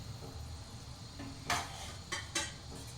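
A lid lifted off a cooking pan of fish masala with tomato and green chilli: a few light, brief metallic clinks over a quiet, steady kitchen background, close by.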